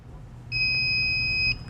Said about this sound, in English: the beeping, it's not fast, it's not constant, it's a little slower